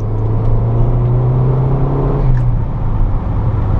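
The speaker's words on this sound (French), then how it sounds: "Le turbo il me régale déjà" A Ford Focus RS MK1, a limited-edition car, runs with its turbocharged engine producing a loud, close, steady hum and whir that rises slightly and then eases back, with no voices.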